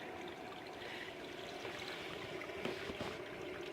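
Water rushes steadily through household pipes laid on top of the ground just after a valve is opened, a continuous hiss and gurgle at moderate level with no talk over it.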